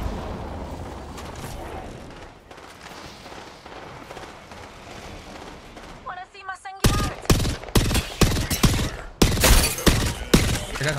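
Gunfire from an enemy team in Apex Legends: a muffled background clatter first, then loud, sharp bursts of rapid shots crack close by in uneven volleys.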